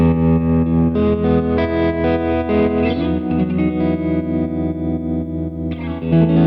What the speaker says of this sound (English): Next one is the Opti mode, based on an optical tremolo